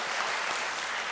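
Audience applause at a Korean peace blessing ceremony, thanking a worship team for their wedding song; a short, steady burst of dense clapping from a crowd.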